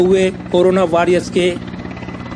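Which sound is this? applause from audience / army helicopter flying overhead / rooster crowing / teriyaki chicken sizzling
army helicopter flying overhead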